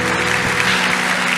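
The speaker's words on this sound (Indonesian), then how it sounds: "Tepuk tangan yang paling meriah buat Tuhan." A church congregation claps together during a worship service, a steady wash of applause filling the short moment without voices.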